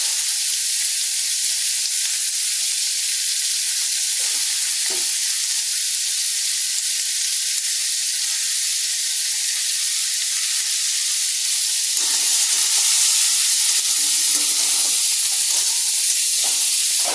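Vegetables fry with turmeric in a pan, a close, even sizzle running continuously with a few soft stirring knocks and no talking.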